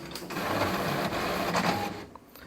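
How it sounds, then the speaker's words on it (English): An HP Officejet Pro 7740 printer running its alignment: a steady mechanical whir of the print carriage with rapid clicking, rising and then easing off near the end, with no voices. "The printer will now do an alignment."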